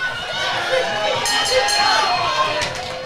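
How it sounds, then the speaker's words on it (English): A boxing crowd at an all-female boxing show roars continuously and loudly, a dense wall of cheering and shouting beneath a commentator's voice. "This crowd are absolutely mental."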